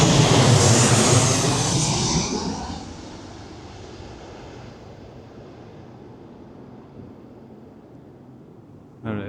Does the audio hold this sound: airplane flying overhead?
yes